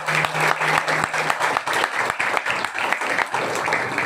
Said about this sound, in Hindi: सब अपलाइन के लिए सबसे पहले जोरदार ताली हो जाए.